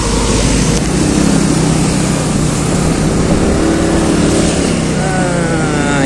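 A motorbike ridden along a busy road past lots of cars, giving a loud continuous engine roar with heavy wind rush and passing traffic throughout, close and unbroken.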